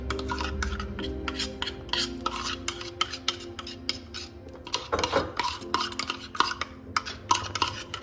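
A utensil scrapes and clinks against a bowl while freshly made chutney is emptied into it, a series of quiet, irregular scraping strokes and taps with no voices.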